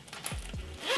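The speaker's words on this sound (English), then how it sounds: "then you just zip it up here at the top" A makeup brush holder is zipped shut at the top, with a few quick close zipper pulls rasping in short strokes against a quiet room.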